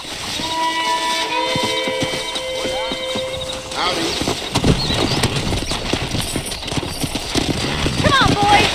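Hooves of several horses galloping in the western game Red Dead Redemption, a fast rhythmic pounding that builds in the second half behind a whistle-like tone and voices talking.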